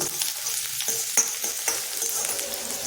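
Beans stir-frying and roasting in a pan, a continuous bright sizzle broken by a few sharp scrapes of stirring, close up with no voices.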